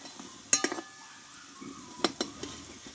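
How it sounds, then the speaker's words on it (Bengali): Sweets frying in a pan being turned over with a metal spatula, a few sharp clinks and scrapes in two small clusters over a faint background hiss. "দেখো মিষ্টিগুলো কিন্তু এক পিঠ ভাজা হয়ে গেছে, আমি একটু উল্টিয়ে নেব।"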